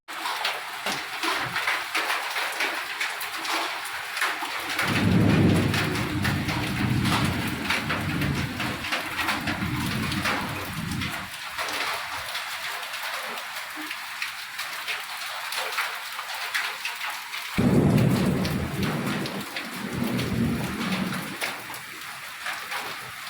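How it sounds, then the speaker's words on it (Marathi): Steady rain mixed with hail pours down on a surface, with heavier bursts of pelting drops now and then; no distinct thunder stands out. "गाराचा पाऊस पडत आहे"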